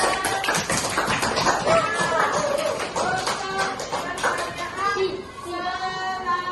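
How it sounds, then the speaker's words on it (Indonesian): A class of children claps hands in a busy burst of overlapping claps that thins out, with children's voices chattering and calling alongside. "Ayo tepuk tangan yang lainnya."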